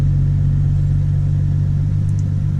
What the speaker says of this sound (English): so that's why it's doing the cold start